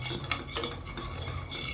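Fried boondi tipped into sugar syrup and stirred in a pan for Kerala-style Diwali laddu, giving steady close scraping and clinking of a spoon against metal with soft wet shuffling underneath and no talk.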